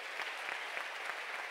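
A church congregation applauds during a Sunday service, a soft, even patter of many hands heard at a distance, brief and steady throughout.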